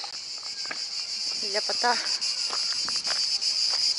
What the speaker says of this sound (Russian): А как поют цикады?